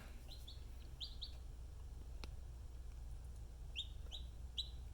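Baby chicks drinking and eating in an incubator setup, chirping in short high peeps, a few quick bursts near the start and again near the end, over a low background hum.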